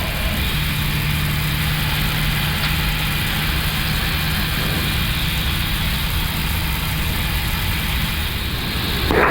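Engine number 2 on an Airbus A321neo spools up during start, a steady roaring whine with a low drone held beneath it, continuous and loud through the cockpit.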